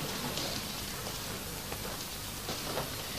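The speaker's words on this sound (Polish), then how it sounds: "A teraz na odmianę znów leje." Heavy summer rain pours down in a steady, dense hiss with no letup, the patter of drops on surfaces filling the scene and no voices present.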